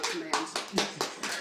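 Hands clapping close by, six sharp evenly spaced claps in a quick row, with talk mixed in.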